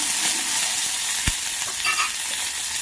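Red chillies, green chillies and curry leaves fry in hot oil on a low flame, a loud, dense, unbroken sizzle with one brief knock partway through and no speech.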